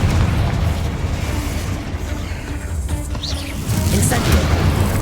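Confringo fire-blast spell explosions in the Hogwarts Legacy video game, a dense run of rumbling booms and bursts with faint birdsong in the background, continuous and loud throughout.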